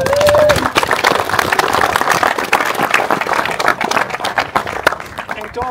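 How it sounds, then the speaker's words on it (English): Indoor audience at an Auckland MR2 Christmas charity run event claps in a dense, scattered round of applause that carries on and thins out, with a voice over the start. "Let's give a big round of applause for Paul for his"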